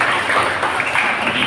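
A church gathering of the El Shaddai chapter in Morong, Rizal breaks into loud applause for God, a dense, continuous wash of many hands clapping with no pause.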